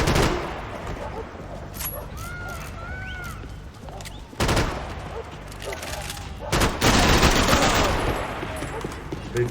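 Gunfire rattles through a street fight in Max Payne 3, set in Brazil, with loud bursts of shots in clusters over background action and a person speaking at times.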